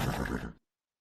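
A horse sound effect, one loud, close neigh lasting about half a second before cutting off abruptly into silence.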